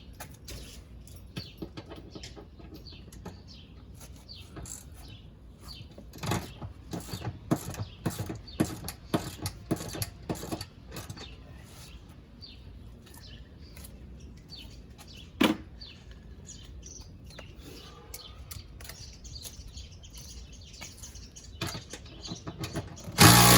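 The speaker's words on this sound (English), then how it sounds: "Basically, just putting this ratchet on so I can loosen it" A hand ratchet loosening the seat bolts inside a 2002 Jeep Grand Cherokee Laredo gives rapid, close, repeated clicking in uneven bursts, with a sharper knock near the end.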